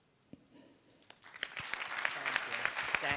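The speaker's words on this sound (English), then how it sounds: "Your audience is applauding you." Audience clapping during a ceremonial Las Vegas city council meeting, beginning with a few scattered claps and swelling into steady, moderately loud applause from a room full of people.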